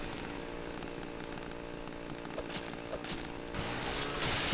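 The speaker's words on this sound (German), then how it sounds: "Alter, das ist ein Monster mit der Kettensäge." A monster's chainsaw revs in the horror video game Cry of Fear, a steady buzzing drone over game music, swelling louder toward the end.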